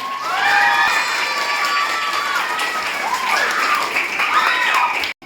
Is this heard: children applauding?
yes